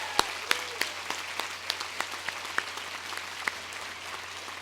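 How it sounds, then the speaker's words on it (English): A graduation ceremony audience applauds in a large hall. The clapping is fairly faint and distant, with scattered sharp individual claps standing out over a steady hum. "Please join me in a round warm of applause for their influence and leadership."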